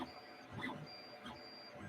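An Anet ET5X 3D printer runs a test print with Z hopping, its stepper motors whining in steady tones with soft periodic bursts of movement about every half second, heard up close in a quiet room.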